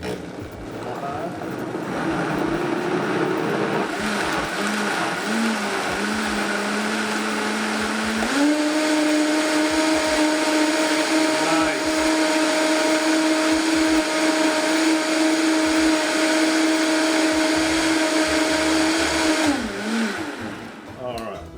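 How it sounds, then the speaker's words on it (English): A kitchen blender pureeing tomatoes, a loud, steady motor roar that shifts up to a higher speed partway and runs continuously before winding down at the end. "I'm gonna blend this bad boy up"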